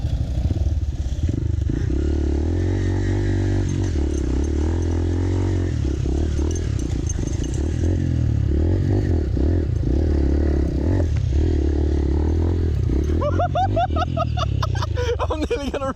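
A motorbike slides out and skids into roadside bush near Ho Chi Minh City. A loud, steady engine drone with clattering and scraping fills the whole stretch, and excited voices and laughter come in near the end.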